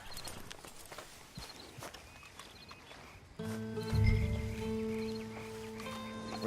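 Horse hooves clip-clopping in the video game Red Dead Redemption 2, a steady run of light hoof falls against ambient outdoor noise, joined midway by a low rumbling and sustained tonal hum.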